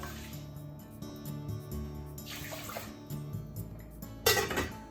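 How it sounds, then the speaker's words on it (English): Water pours into a pot holding two cups of rice in a home kitchen, a bubbling, splashing stream with faint metallic ringing from the pot, close up, ending in a brief louder gush. "It's 2 cups of rice, so I'm adding 2 cups of water."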